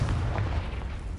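A Confringo fire blast spell cast in the Hogwarts Legacy video game, heard as a loud, booming burst that rumbles low and sustains across the whole moment with no speech.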